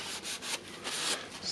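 A dirty drill bit for a Dewalt SDS max hammer is rubbed clean of sand by hand, giving quick, repeated scratchy strokes in an uneven rhythm, close and fairly soft, with no talking.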